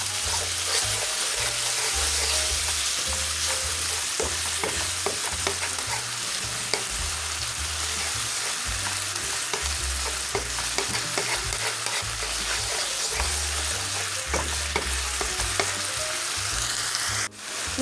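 Soy sauce, chicken bouillon and sesame oil stirred into garlic noodle sauce in a hot pan, a continuous sizzle with scraping stir strokes throughout, close and steady until a brief clunk at the end.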